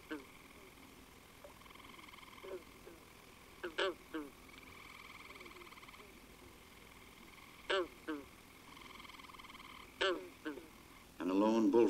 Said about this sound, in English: Green Frog chorus is now starting.